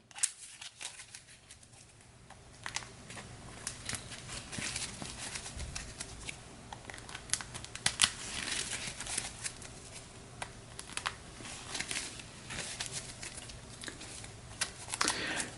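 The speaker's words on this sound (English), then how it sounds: "we'll give the second deck a quick shuffle, just to make sure everything is as fresh as can be" A deck of cards being shuffled at a tabletop boxing tournament game, with soft riffling and crinkly patter that comes and goes in bursts, fairly quiet and close, with no talk over it.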